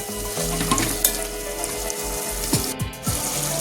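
Mutton pieces sizzling in a pan with onions while being stirred, a steady loud fry with scraping stir strokes and a few clanks, no talking.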